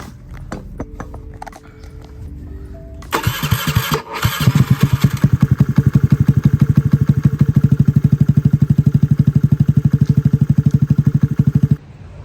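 A small Honda Navi motorbike fitted with a lightened flywheel starts up close by, then settles into a loud, steady, rapidly pulsing idle that runs on until the end, with no voices.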